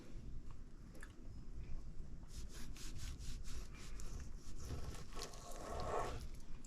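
A knife cuts raw chicken breast into long thin strips for dehydrated dog treats, giving soft repeated rubbing and sawing strokes that come close and steady over a low background hum.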